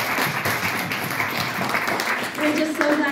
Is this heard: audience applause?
yes